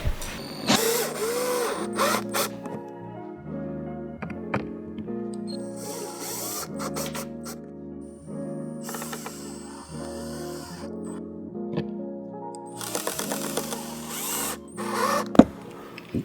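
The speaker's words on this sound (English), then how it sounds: "Then we're gonna screw in the holes on these" A power drill drives screws into a Vicrez V3R style body kit on a Tesla, in repeated short whirring bursts with ratcheting pauses between them, fairly close and with no talking.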